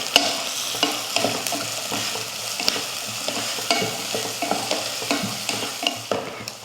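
Chopped onions, green chillies, garlic and ginger sautéing in a pan for parotta-style chapathi dal curry, giving a continuous sizzle with repeated sharp scraping and stirring clicks at an irregular rhythm.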